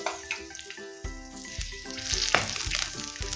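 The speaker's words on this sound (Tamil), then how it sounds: "வெங்காயத்தின் அந்த மனம் போகும் மட்டும் வெங்காயத்தை வதக்கி எடுப்போம்." Onions sautéing over a medium flame in a pan for chilli chicken gravy give off a soft, continuous sizzle with occasional stirring scrapes, heard close and fairly quiet.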